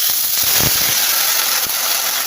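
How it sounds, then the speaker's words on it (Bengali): Hot water poured onto fried moong dal in a pan gives a loud, steady steamy hiss with a brief burst of bubbling sizzle near the start, filling the whole stretch without talk. "দেখো ডালটা ভাজা ভাজা হয়ে গেছে তো এবার আমি দিব জল"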